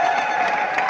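Applause and cheering fill a church ceremony celebration as a dense, steady wash of clapping from a crowd. It lasts only about a second with no clear voices.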